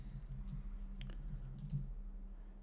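Code being typed on a computer keyboard, a short quiet burst of soft key clicks over steady low background hum.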